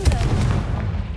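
A Confringo explosive spell cast in Hogwarts Legacy, heard as a loud, deep booming blast with a rumbling tail that fades over about a second.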